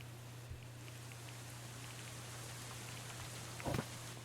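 Steady rain falls in the medieval colony-building game Going Medieval, a soft, even hiss with scattered droplet ticks and a brief louder patter near the end, heard alone without talk.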